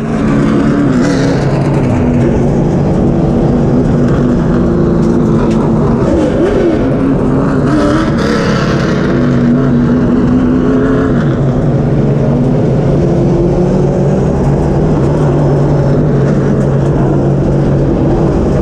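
Race car lapping Caraway Speedway in qualifying, a loud continuous engine roar with shifting pitch as it pushes around the oval for the whole stretch.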